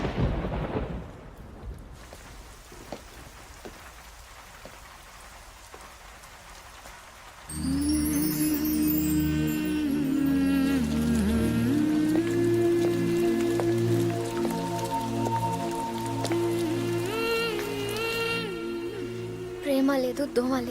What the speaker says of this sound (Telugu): వర్షం పడుతోంది, ట్రైన్ లేటో ఏమో.